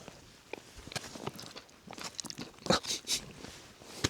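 Close, crisp crunching of food being chewed while wild camping in the Peak District, a string of irregular bites with no talking.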